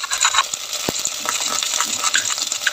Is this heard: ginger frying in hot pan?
yes